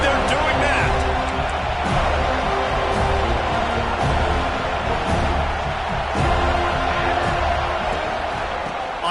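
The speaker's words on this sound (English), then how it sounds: "They challenge this crowd to bring the energy, and I'd say they're doing that." Stadium crowd in a college football video game, Oklahoma against Florida State, roars steadily and loudly throughout with cheering and whoops, a dense wash of noise that never drops off, with commentary voices underneath.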